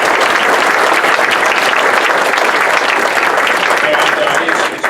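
Loud, dense applause from an audience at a town hall meeting in Salem, New Hampshire, welcoming a senator, a continuous roar of clapping that cuts off abruptly just before the end.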